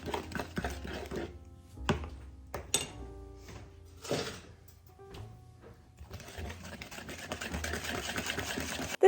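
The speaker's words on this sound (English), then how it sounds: "You can use the mixer if you want." An electric mixer stirs boxed cake mix batter in a bowl, whirring in short, close bursts separated by pauses before settling into a longer continuous run near the end.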